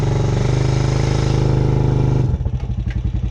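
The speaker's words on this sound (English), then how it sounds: "Look at the tire spinning." Honda Recon four-wheeler stuck in a creek, its engine droning loud and steady while the tire spins in high gear, then the revving breaks into choppy, uneven pulses near the end.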